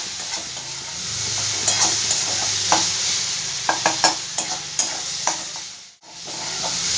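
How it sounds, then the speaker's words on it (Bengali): Spices with red chili powder fry in oil for a Bengali fish-oil chorchori, giving a close, continuous sizzle broken by repeated scraping stirs of a spatula and a brief drop-out near the end. "সব মশলাগুলো একটু ভালো করে আমি ভেজে নেবো এবার"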